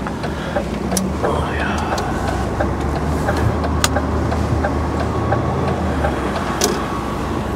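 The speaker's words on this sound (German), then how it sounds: "Gut, dann fahren wir jetzt 63 Kilometer nach Padua." A long-haul truck drives on an Italian road toward Padua, and a steady cab rumble of engine and road noise fills the interior, with someone talking over it.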